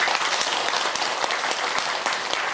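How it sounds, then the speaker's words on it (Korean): Applause from an audience at a Buddhist dharma assembly honouring a monk, a steady wash of many hands clapping close and loud for a few seconds with no voices over it. "우리 도제 스님을 위해서 박수 한번 해드립니다"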